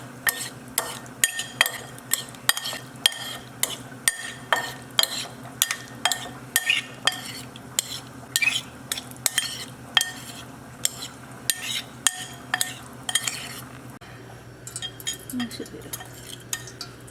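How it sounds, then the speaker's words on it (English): A utensil stirs tofu fried rice with vegetables in a pan, producing steady, regular scraping clinks roughly every half second over a faint sizzle, close and fairly quiet, with no talk. "ហើយយើងកូរវាណា"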